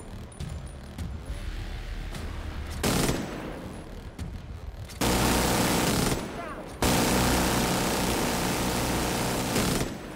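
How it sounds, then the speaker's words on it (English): A machine gun firing continuously in a video game, loud sustained bursts of automatic fire cut by short pauses, with the longest stretches of fire near the end and a voice talking in between. "Good thing is, this gun doesn't run out of bullets"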